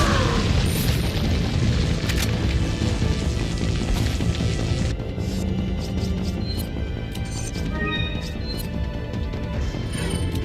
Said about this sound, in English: Flashbang, go.